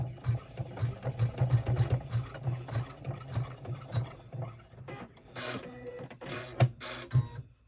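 An embroidery machine runs stitches on a mini rucksack in the hoop, with rapid rhythmic mechanical stitching that pulses unevenly and pauses briefly near the end, up close with no voices.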